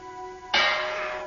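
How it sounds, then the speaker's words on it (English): A sudden loud metallic clang bursts in, then rings on with a bright, sustained shimmer that slowly fades. "Watson shows Albert the rat accompanied by a loud clanging noise"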